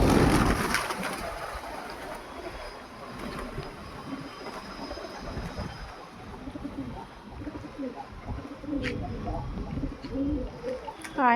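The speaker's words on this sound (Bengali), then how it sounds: "এখানে পায়রা খাবারগুলো দিলাম" Several pigeons coo steadily while being fed outdoors, low rolling calls repeating near and far, with handling rustle at the start and a distant rumble behind; no clear talking.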